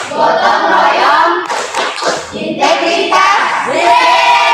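Classroom group clapping rhythm (Tepuk PPK), with loud patterned hand claps from a class interspersed with chanted voices, close and energetic.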